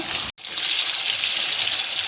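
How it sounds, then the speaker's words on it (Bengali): Ivy gourd fries in a pan in a home kitchen, giving a bright, steady sizzling hiss, close and fairly loud, briefly cut off twice. "এখানে হচ্ছে তরুলি ভাজা"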